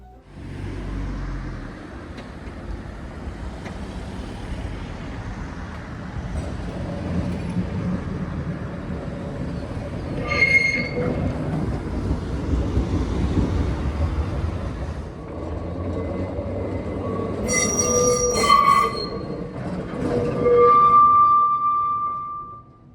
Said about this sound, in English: watching the tram motor cars run around the trailers to pull them back down the line